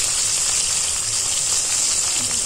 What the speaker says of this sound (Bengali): ডাল দিয়ে খাওয়ার জন্য আমি আবার পাঁপড় ভাজা করলাম।